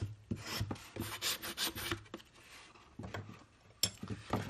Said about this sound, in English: And then you can burnish.